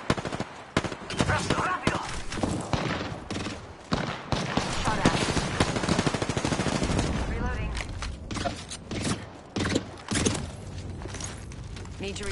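Video game machine gun fire crackles in repeated rapid bursts, loud and close, interspersed with short gaps, while a voice shouts briefly over the shooting.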